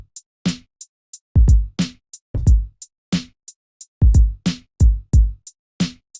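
Dark 90s-style boom bap drum loop from Ableton Live with a Hip Hop NY Cut 16ths swing groove applied, heavy kicks and cracking snares with crisp hats in a loose, shuffled pocket, repeating clearly with nothing else over it.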